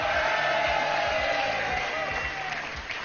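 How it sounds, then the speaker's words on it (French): A French game-show studio audience applauding the contestants Mathilde and Franck, dense clapping and some cheering throughout, loud and close, easing slightly toward the end. "Applaudissements pour Mathilde et Franck."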